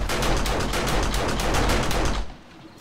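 Rapid automatic gunfire in the survival game 7 Days to Die, a loud, steady stream of about a dozen evenly spaced shots over two seconds before cutting off abruptly into quiet.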